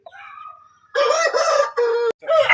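An Asil fancy rooster crows loudly and close by in several bursts, each call breaking off briefly before the next, after a softer lead-in.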